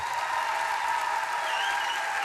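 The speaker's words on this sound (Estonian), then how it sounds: "No ja me teeme ühe aplausi veel" Loud, continuous applause from an audience at a school event on stage, a dense, steady clapping wash holding level throughout, with a faint tonal hum beneath it.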